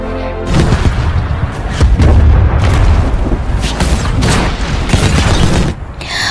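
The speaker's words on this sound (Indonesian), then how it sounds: "terdengar suara ledakan boom yang sangat besar mengguncang gua tersebut" A huge explosion booms through a cave in the video game Tomb Raider, a loud rumbling blast with crackling debris that sustains for several seconds before fading, with no speech.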